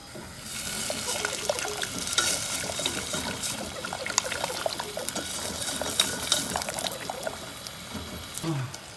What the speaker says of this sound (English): I'm just going to let that bubble up a bit